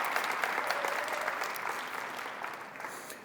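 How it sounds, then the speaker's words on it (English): Audience applause at a BIPOC fellowship launch event, a steady, moderately loud wash of clapping that holds for a few seconds with no talk over it. "Cheryl, big round of applause for Cheryl Blackman, please."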